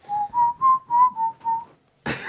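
A person whistles a short tune of about six clear, steady notes, followed by a brief pause and then a burst of noisy sound.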